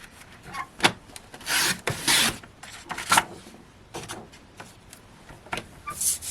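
A paper trimmer cutting cardstock for cardmaking makes several close, raspy sliding swipes of the blade, separated by short pauses and light handling noises.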